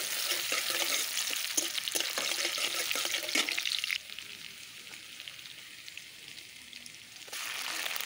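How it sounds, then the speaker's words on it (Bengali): Chopped onions fry in hot oil in a wok, a steady broadband sizzle with frequent stirring scrapes, loudest for the first half and then quieter before rising again near the end; no voices. "দিয়ে দিলাম পেঁয়াজ কুচি। তেলটা গরম হয়ে গেছে।"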